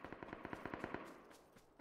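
Rapid video game gunfire rattles in a fast burst of about a dozen evenly spaced shots at moderate distance, then trails off into scattered fainter reports.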